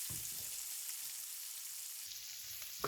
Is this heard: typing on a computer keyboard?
no